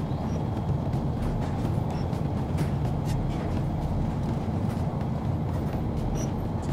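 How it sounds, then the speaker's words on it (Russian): A slow-moving train in the Crysis Warhead video game gives off a steady low rumble and rolling drone. The sound is continuous and moderately loud, with faint clanks above it and no talking. "Ну, поезд реально медленно движется."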